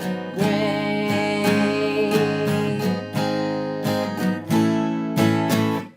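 Acoustic guitar strummed in a steady rhythm through the first measure of a song, chords ringing out with bright attacks and brief pauses between changes, close and loud, no voices.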